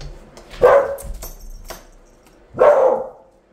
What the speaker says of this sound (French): j'ai ouvert la fenêtre et mon chien s'est mis à aboyer